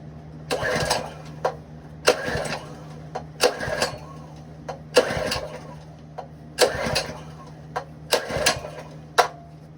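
Ironton 208cc small gasoline engine being pull-started, with about seven loud bursts of cranking and sputtering that catch briefly and die, spaced a second or so apart over a steady low hum, close by.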